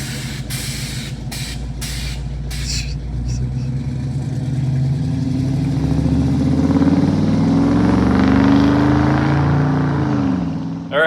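An LS-swapped all-wheel-drive Mitsubishi 3000GT on slicks launches hard, its V8 revving up in a loud, sustained rising roar after a few sharp bursts, holding near and steady before cutting off abruptly.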